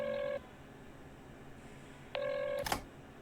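A phone's ringback tone sounds twice with a long gap between, against faint background hiss, ending in a sharp click as the call connects.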